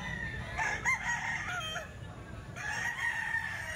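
A McLean Golden Boy Sweater gamefowl rooster crows loudly and close, its harmonic call rising and falling twice over a low background rumble.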